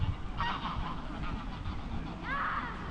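Several geese honking in a Munich park, two bursts of nasal calls near the start and again near the end over a steady outdoor background, fairly close.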